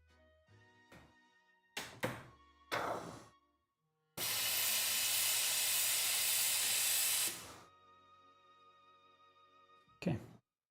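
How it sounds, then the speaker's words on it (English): A La Seine X espresso machine steam wand being purged for cleaning lets out one loud, steady hiss lasting about three seconds and then tapering off, with a few clunks and short bursts before it and one after. "Just so I can clean the steam wand."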